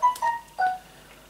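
A mobile phone chimes with three short tonal beeps in quick succession, clear and close, with no talking over it.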